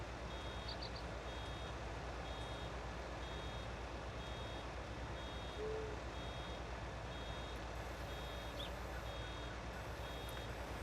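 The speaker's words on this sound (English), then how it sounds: "if you turn the baler off with the B key, it will stop making that beeping sound. The I'm full sound." Baler full warning in Farming Simulator 19 gives a steady series of short, evenly spaced electronic beeps over a low, constant engine rumble, with no talking.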